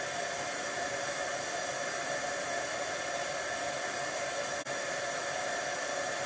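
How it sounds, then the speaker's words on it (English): A heat tool blows a steady, loud hiss of hot air over puff paint on vellum, continuous throughout with one brief dropout. "take that heat tool and watch it puff up this time"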